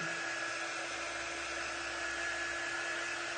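A hair dryer drying shimmer copper paint on a holiday craft project gives off a steady, even blowing hum with a faint whine, continuous and fairly quiet, with no talking.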